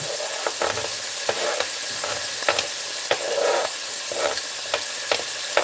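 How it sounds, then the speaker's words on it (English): Garlic and shallots sizzle steadily in a hot pan, with a dense frying hiss broken by repeated sharp scrapes and clicks of stirring, close and loud, with no voices. "So now I'm going to add the garlic and the shallots."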